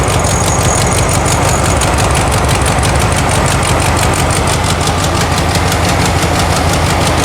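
A 1972 VW Karmann Ghia air-cooled engine idles during carburetor tuning, a loud, steady, close-up rumble with a fast, even pulsing throughout and no talking.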